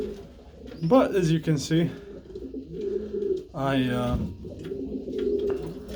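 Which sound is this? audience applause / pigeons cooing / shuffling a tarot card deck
pigeons cooing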